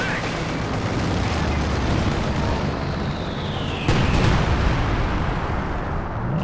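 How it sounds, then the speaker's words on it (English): IL-2 bombs exploding in a real-time strategy game, a continuous rumble of heavy blasts, with a whistling drop followed by a loud impact near the middle and a voice talking over it. "He's dropping in the IL-2 bombs."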